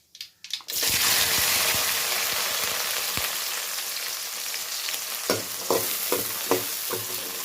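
Finely chopped onion and garlic hit hot oil with popped mustard seeds, a sudden loud sizzle that settles into steady frying, with a few utensil clacks and stirs near the end.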